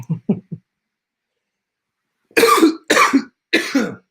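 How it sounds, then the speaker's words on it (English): Three quick short coughs, a pause of silence, then three heavier, rougher coughs in succession, close and loud. "I've been coughing a lot."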